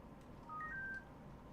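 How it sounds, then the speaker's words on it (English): A phone going off with a few short electronic tones in quick succession, faint and brief over a low background rumble. "Why is my phone going off?"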